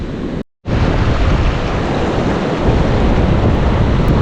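Large waves breaking on a Dapoli beach at sunset, a loud continuous roar of surf and wind buffeting, with a short gap just after the start.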